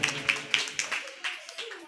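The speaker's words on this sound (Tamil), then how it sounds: "கைத்தட்டு" Hand clapping at a Tamil Christian dance event, a steady series of sharp claps about every quarter second, fairly faint, with room noise and voices underneath.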